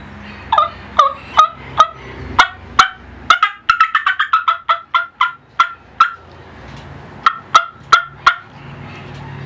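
A hunter's multi-reed mouth call imitating a hen turkey, loud sharp cutting clucks in quick bursts, speeding into a rapid run before slowing again, close up.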